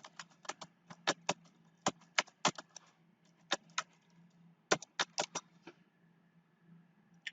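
Quick bursts of keystrokes on a computer keyboard, clattering close and clear in irregular runs with brief pauses between, typing a domain name; no one speaks.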